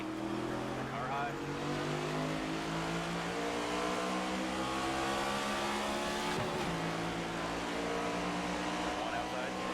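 Race cars in NASCAR 25 roar together at a restart on the green flag, a loud sustained layered engine drone with shifting pitch and a brief dip midway, continuous throughout.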